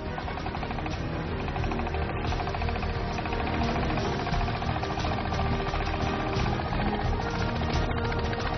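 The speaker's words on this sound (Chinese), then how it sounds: "拖拉机工作正常" A modified tractor with raised air intake and exhaust and large tyres runs after long submersion in water, its engine giving a steady, loud, continuous knocking drone without pause.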